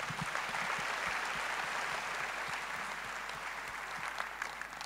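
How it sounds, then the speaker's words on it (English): A church congregation at CityHill Church claps to welcome first-time visitors, a dense, even roar of many hands that holds steady and then eases slightly toward the end, with no voices over it. "Can we please clap for our visitors?"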